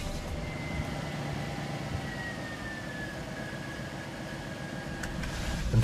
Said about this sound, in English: that V8 soundtrack.